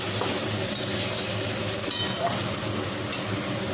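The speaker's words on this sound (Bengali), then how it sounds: "এদিকে মশলাটা কষি।" Spice paste frying and being stirred in a pan for a vegetarian raw-banana kofta curry, a steady close sizzle with occasional soft scrapes and clinks of the spoon throughout.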